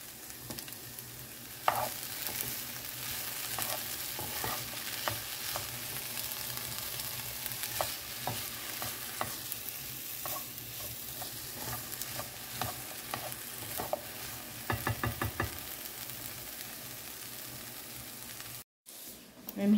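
Spinach and ricotta ravioli and bread warming in a pan, a soft continuous sizzle with occasional stirring and utensil scrapes, fairly quiet and close, with a brief sharper clatter near the end.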